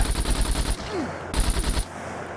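Sustained automatic gunfire in the SCUM video game, a full magazine emptied in two long rapid bursts separated by a short pause, loud and close with no talk.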